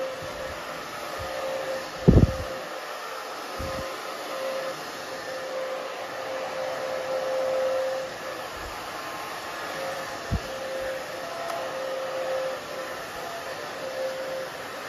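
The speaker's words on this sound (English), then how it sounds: "you can you see how I'm like holding the dryer, but I'm pulling up" A hair dryer blows steadily and close while a pixie cut is styled, a continuous broadband whoosh with a few brief knocks from handling.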